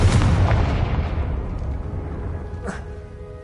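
A Confringo spell detonates in Hogwarts Legacy, a loud, deep boom that rolls away into a long fading rumble, followed by a smaller sharp burst near the end.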